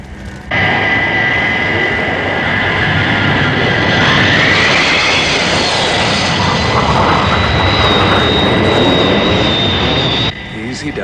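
Thunderbirds aircraft engines roar on the landing approach with flaps down and banking to final, a loud, continuous jet rumble with a high whine that bends upward and holds steady before cutting off.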